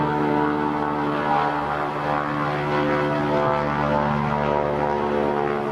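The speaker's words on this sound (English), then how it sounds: "I'm just waiting for the plane to leave so he can hear me a little bit better" Small propeller plane taking off at Brooks Camp in Katmai National Park, its engine a loud, steady droning roar that fills the whole stretch without letup.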